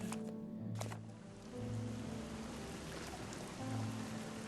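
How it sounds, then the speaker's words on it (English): Rain falls steadily in the underwater-exploration video game Submerged, a soft continuous hiss with low droning tones beneath it and no talking. "it's starting to rain again"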